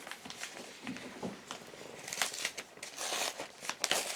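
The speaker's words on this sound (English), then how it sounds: "So the unboxing for today is this envelope. Okay, so let's open." A Blu-ray package envelope is torn open up close, giving a run of quiet paper crinkling, rustling and tearing with irregular sharp crackles.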